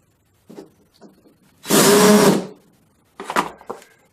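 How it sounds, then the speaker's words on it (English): A power drill whirs loudly in one burst of under a second, drilling into a wall, preceded and followed by short tapping and handling noises, then a briefer grinding burst. "and drill your hole."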